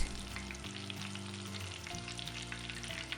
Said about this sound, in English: Cook until the outside is crispy and golden brown.